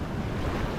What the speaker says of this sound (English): You get the little waves come through